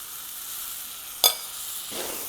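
Rice with turmeric sautéing in a pan, a soft steady sizzle broken by one sharp utensil clink and a brief swell of stirring.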